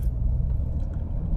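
Remapped BMW 318d E91 Tourer diesel with a straight-pipe exhaust, giving a steady, loud low rumble that stays even throughout with no voices.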